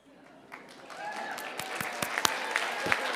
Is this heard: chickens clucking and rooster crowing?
no